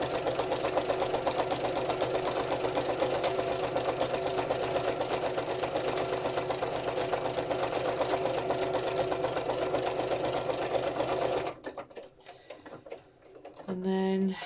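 A sewing machine stitches a wide line straight down the middle of a strip of lace, running loud and continuous for about eleven seconds before stopping, then brief handling sounds follow.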